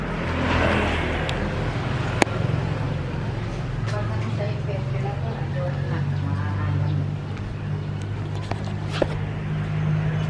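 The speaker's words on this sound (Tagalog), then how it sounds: "puro sasakyan maririnig nyo kasi malapit lang kami sa kalsada" Cars go by on a road close to a rural provincial home, a steady low engine hum with passing swells and faint clicks, heard under someone talking.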